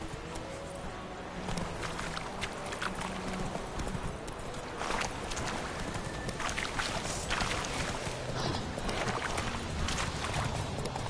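Roach the horse gallops in The Witcher 3, a steady clip-clop of hooves running continuously over a dense background of wind and ambient game sound, with no pauses in the stride.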